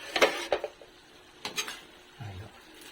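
A spoon scraping and clanking against a pan while sautéed vegetables and cabbage are stirred, a few quick metallic knocks and scrapes, close and fairly soft.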